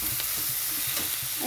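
Spice paste for a Bombay duck (loitta fish) bharta sizzles and fries in a pan while being stirred, a close, steady hiss with soft rhythmic scraping strokes, and no talking.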